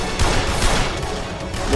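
Gunfire in the video game Blues and Bullets rattles out in a quick burst of close, loud shots, several reports packed together in under two seconds.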